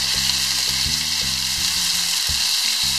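Lamb pieces for a curry brown in a hot pan with a steady, loud, dense sizzle, broken by occasional low knocks and scrapes, with no talking.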